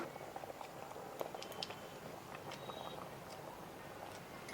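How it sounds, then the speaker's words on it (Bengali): A pot of fish curry gravy made with big black pomfret bubbling as it boils, a soft, steady simmering patter with small pops and crackles, close but quiet, with no talking. "কি সুন্দর দেখুন টকবক করে ফুটছে।"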